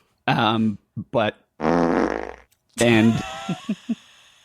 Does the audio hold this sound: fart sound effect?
yes